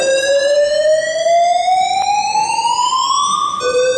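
A fire and safety alarm being tested at an amateur theatre gala, a loud electronic siren tone steadily rising in pitch, then resetting and starting to climb again, with no one talking.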